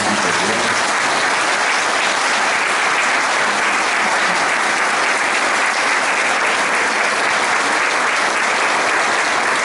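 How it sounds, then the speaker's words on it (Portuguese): An audience applauds steadily at a talk on depression, a dense, even wash of many hands clapping that holds loud and unbroken from start to finish with no voices on top. "então, mais uma salva de palmas"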